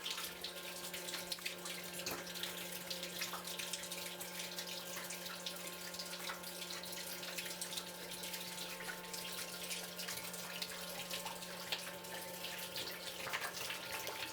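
Continuous trickle of distilled water splashing into a bucket, steady and fairly quiet, with a low hum of a small pump recirculating it underneath.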